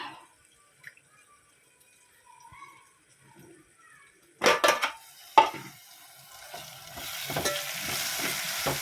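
Ginger and garlic frying in a pan for potato curry: a near-silent start, then a few sharp clatters and stirring knocks before a steady, moderate sizzle takes over.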